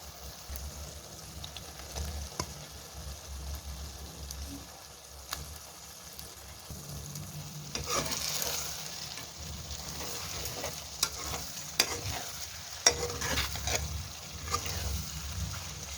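Fried paneer in a frying pan with chilli sauce gives a soft, fairly faint sizzle, with irregular scrapes and clinks of stirring that grow busier in the second half, and no talking.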